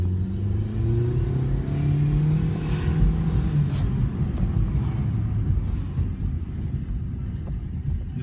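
A 2016 Toyota Corolla with a 132-horsepower engine accelerates in manual mode, its steady engine drone rising in pitch as revs climb and rumbling continuously from inside the cabin.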